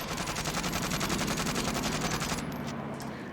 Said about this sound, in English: I'm finally firing the first bullets out of my gun